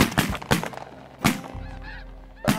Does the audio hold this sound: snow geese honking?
yes